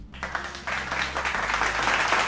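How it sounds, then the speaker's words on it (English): Several people clap their hands in a quick, uneven burst of applause, fairly faint, over a low steady hum. "First I gotta clap that up"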